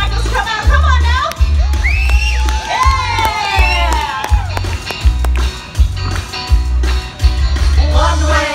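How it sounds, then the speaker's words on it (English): A loud crowd of children and adults at a Kennywood amusement park unicycle show cheers, whoops and shouts in sustained bursts, with steady rhythmic thumping beats underneath. "I'm gonna need you guys to cheer really loud for me if you want these unicycles coming out."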